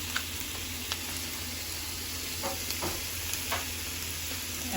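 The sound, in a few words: onions frying in oil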